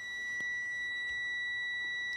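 A truck's low air pressure warning buzzer sounds during a CDL Class A pre-trip inspection, a steady high-pitched electronic tone holding on without a break at moderate loudness.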